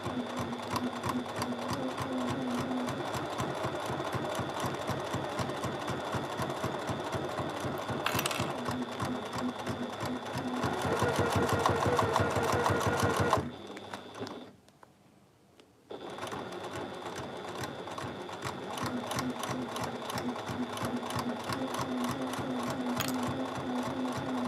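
A sewing machine stitches along a fabric project bag in a fast, steady mechanical chatter, pausing briefly midway before resuming at the same even pace, close and clear with no talk.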